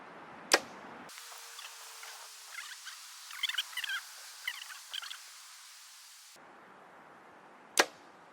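An arrow is shot from a Bowtech RPM360 compound bow at a target 80 m away: a sharp crisp release snap, a long quiet flight, then a distant crack as it strikes.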